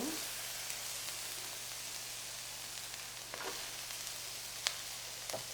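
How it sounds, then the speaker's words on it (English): Onions sauté in a couple of tablespoons of olive oil in a pan, giving a soft, even sizzle throughout. A few faint clicks and taps sound over it. "toss my onions in and get those sauteing"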